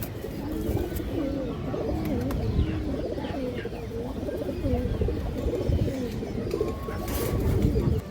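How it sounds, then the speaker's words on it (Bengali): A molting female Giribaz pigeon coos in repeated warbling phrases through most of the stretch. The birds are close and clear, with soft bird noise in the background and no voice over them. "এই যে দেখেন মাক্সি গিরিবাস মাদি কবুতর"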